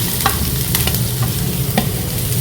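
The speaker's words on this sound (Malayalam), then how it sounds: "അതിലേക്ക് ഞാൻ ഈ ക്യാപ്സിക്കം എല്ലാം കൂടെ ഇടാണ്." Square-cut capsicum pieces sauté in a pan for a quesadilla, a loud close sizzle of frying with a few sharp spatula stirring scrapes, no voices.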